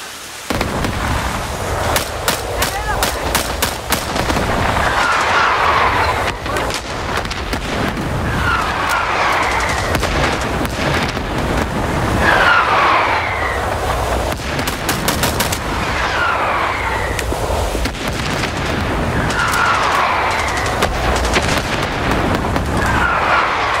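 Artillery fire support pounds down in the Vietnam War game Rising Storm 2: Vietnam, a loud, continuous barrage of booming blasts and rattling gunfire, with sharp bursts of crackling detonations recurring every few seconds.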